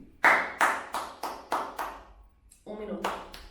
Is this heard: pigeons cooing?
no